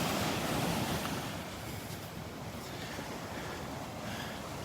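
Ocean surf rolls and breaks on a beach at Delnor-Wiggins, a steady broad wash of water with wind buffeting the microphone, continuous and fairly close, no voices.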